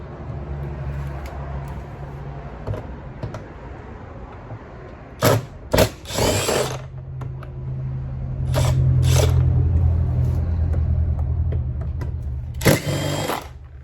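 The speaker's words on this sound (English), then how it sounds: "we're going to remove the bolt right here and right here. I'm going to use the T30" Bolts on a Mercedes door handle being removed with a T30 Torx tool: a sustained mechanical whir runs through the clip, broken by several sharp clicks and clunks, with a louder steady drive near the middle.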